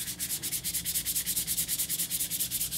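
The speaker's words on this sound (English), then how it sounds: "Before this sandpaper is totally shot, I'm going to go ahead and just use it to" Sandpaper rubbed by hand across the face of an antique Keen Kutter axe head, a steady back-and-forth scrubbing in quick, even strokes, close and fairly loud with no talking.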